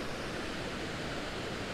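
A lower waterfall on the North Shore rushes in a steady, dense roar of falling water, close and continuous with no talk over it.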